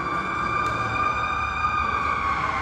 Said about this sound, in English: Every manner of bells is going on around here. Ringing bells, siren bells.